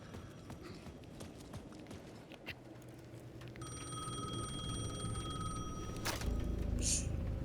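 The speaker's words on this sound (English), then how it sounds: "The payphone at the edge of the plaza was ringing again." A payphone at the edge of a plaza rings in the video game Alan Wake 2, a thin electronic trill that starts partway through and repeats for a couple of seconds over a quiet, murky ambient background.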